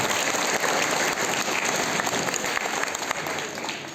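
A crowd at the opening of a Jain religious education camp in Belagavi claps loudly and steadily, a thick unbroken wash of applause that eases slightly toward the end.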